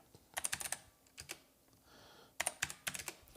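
Close, crisp keystrokes on a computer keyboard come in quick bursts of several clicks with short pauses between them as a short command is typed, and nobody speaks.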